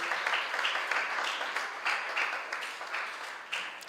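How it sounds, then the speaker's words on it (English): An audience at a Spell Africa International spelling competition claps for contestants, a steady round of applause with brief bursts, moderately loud and fairly near, without talk over it. "Let's clap them once again."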